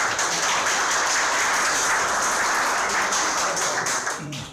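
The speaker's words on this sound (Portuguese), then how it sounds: "Salve de palmas." Audience applause at an artificial intelligence lecture event, a dense steady wash of many hands clapping that carries on evenly before fading slightly at the end.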